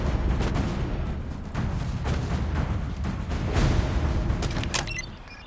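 Naval guns of a warship booming in the Battleship video game, a dense continuous barrage of heavy rumbling blasts with sharper cracks, loud and sustained before easing off at the end.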